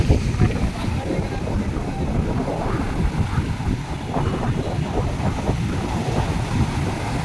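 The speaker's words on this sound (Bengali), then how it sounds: "উঁচু হয়ে ঢেউ আসছে" Continuous roar of large ocean waves breaking close by, with wind rumbling against the microphone and a faint voice underneath.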